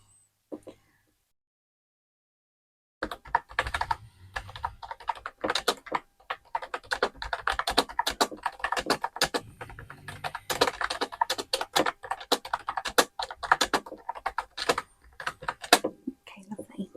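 Dense, rapid computer keyboard typing fills the clip close up after a short silent start, with a steady stream of clicky keystrokes and no voice.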